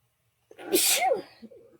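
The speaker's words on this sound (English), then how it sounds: "I feel like I'm going to sneeze." A single sharp sneeze, close and loud, with a quick intake before it and a brief trailing exhale.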